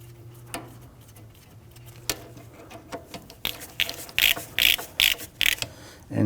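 A ratchet tightens the brake caliper bolts on a Ford Police Interceptor Utility, first with a few isolated clicks, then a run of loud, close, rhythmic ratcheting bursts.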